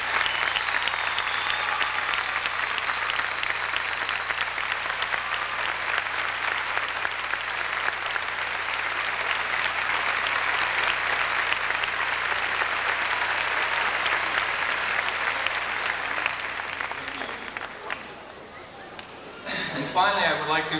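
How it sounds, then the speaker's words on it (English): Sustained applause from a large audience at a 1992 high school commencement ceremony, loud and steady for most of the stretch before tapering off near the end, where a voice begins to speak. "Would you please join me in a round of applause?"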